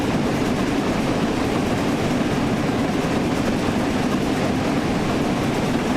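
A steam train running in the Train Sim World 4 video game gives a loud, steady rumbling roar with no distinct beats, continuous throughout and free of speech.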